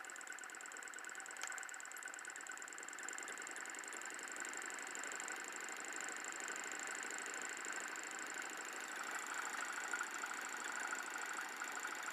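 A small motor runs steadily, giving a faint, continuous high-pitched whine and hum, with a slight click near the start.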